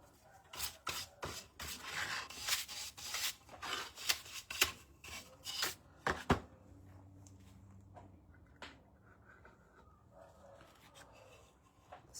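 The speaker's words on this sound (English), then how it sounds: "I'm just going to sand it. This is just a 220 piece of sandpaper." Painted cardboard is sanded by hand with a 220 grit sheet in brisk, rhythmic rasping strokes at close range, which then give way to quieter, softer rubbing.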